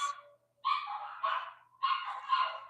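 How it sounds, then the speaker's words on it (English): Dogs bark in several short bursts, some distance off and moderately loud, with quick yips between the barks and no talking. "You hear them? Dang dogs."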